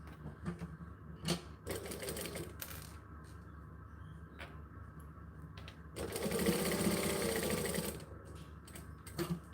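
A sewing machine runs straight seams in short rapid bursts of stitching, the longest near the end, with quiet pauses and small clicks in between.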